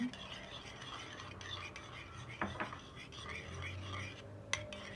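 A wet egg, oil and liquid mixture for simit dough is stirred in a bowl, with soft continuous swishing, a few sharper utensil clinks near the middle and end, and no talking.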